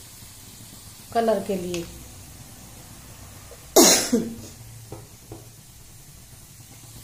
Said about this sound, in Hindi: ये छोंक कितना अच्छा हो गया, इसमें मैं डालूंगी अभी कश्मीरी मिर्च